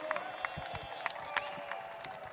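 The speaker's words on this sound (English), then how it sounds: "Give a round of applause for their build." A round of applause for a custom Harley-Davidson motorcycle build at a pre-show event, quiet and somewhat distant crowd clapping with a few sharper claps and light cheering.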